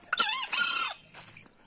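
A Bon Davo rooster gives one loud, close crow with a rising and falling call, then a few quieter clucking notes.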